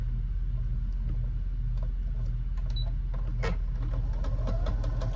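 A home sewing machine runs a long basting stitch on a lounge gown, its motor humming steadily with a fast, even needle chatter that carries on without pause from start to finish.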